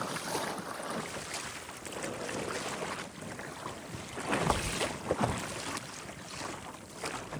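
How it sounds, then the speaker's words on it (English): A kayak driven by a 30-pound thrust trolling motor moves across the sea in Christchurch Bay, with a steady low motor drone under constant water splashing and gusty wind noise on the microphone. "that's paired with a 30-pound thrust trolling motor, and it's doing pretty good"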